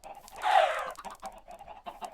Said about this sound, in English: So we should see chickens start flowing in here.